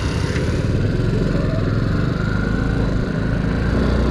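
A Honda C90 motorcycle engine runs steadily throughout, fitted with a new carburettor that was overrunning, giving a continuous close, loud mid-pitched drone with a light mechanical clatter and no talking.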